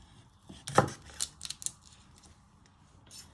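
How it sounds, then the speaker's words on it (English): Garlic has its ends chopped off with a knife on a board, producing a few quick, crisp close clicks and knocks, one louder than the rest, against a quiet background with no talk. "So what you do is you first chop your ends off the garlic."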